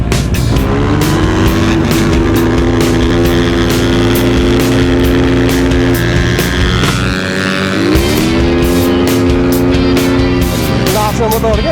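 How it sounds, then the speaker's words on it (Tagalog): A loud racing motorcycle engine, a Kawasaki KR sniper build, revving hard with rising and falling pitch sweeps and sharp throttle blips, close and dominant throughout. "Lakas ng motor niya, oh."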